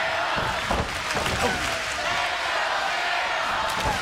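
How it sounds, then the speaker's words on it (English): A wrestling crowd at a 2002 TNA match chants for Shamrock in a steady, loud roar that fills the arena, with a commentator's voice talking over it. "Listen to the crowd chanting, "Let's go, Shamrock!""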